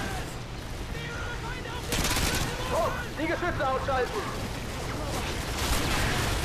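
Automatic gunfire in the shooter game Call of Duty: Modern Warfare 2, bursts of rapid shots and impacts over a steady game backdrop, louder from about two seconds on, with a voice speaking over parts of it.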